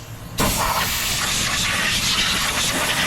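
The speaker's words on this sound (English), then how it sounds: "we're going to come with some parts cleaner just to soak in there a little bit, blast off any" Aerosol parts cleaner blasts onto the hydraulic suspension parts of a supercharged Mercedes, a loud, steady hiss that starts abruptly and runs unbroken for about three seconds.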